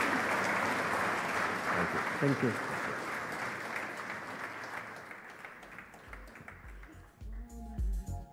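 A conference keynote audience applauds with dense, even clapping that fades over several seconds, and then someone speaks briefly as the clapping dies away.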